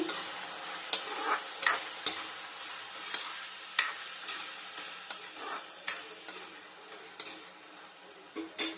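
Tomato pieces with turmeric and salt are stirred in a pan for a home-style flat bean and tomato curry. Soft, close spoon scrapes and clicks repeat unevenly over a faint, quiet sizzle.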